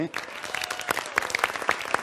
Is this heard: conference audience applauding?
yes